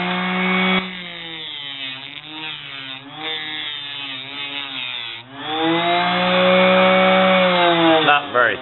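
A small homemade mini grinder whines and grinds while cutting thin aluminum, its pitch dipping and wavering under load before rising to a steady high spin, close and fairly loud.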